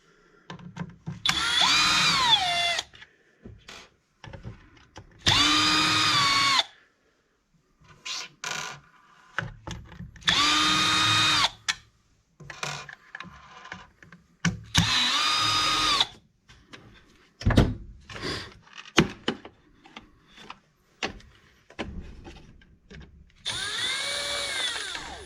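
A power drill pulls screws from the rear of an RC car chassis, an older Maxx being fitted with a longer V2 Wide Maxx chassis. Five close, whining bursts of a few seconds each are separated by quiet pauses and small handling clatter.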